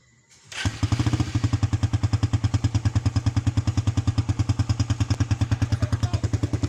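A carbureted Suzuki Raider 150 motorcycle, fitted with a racing CDI, fires up after a brief crank and settles into a loud, steady, rapid idle with an even pulsing beat close to the microphone.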